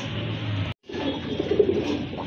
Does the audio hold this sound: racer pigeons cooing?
yes